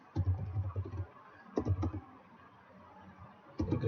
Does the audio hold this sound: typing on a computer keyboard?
yes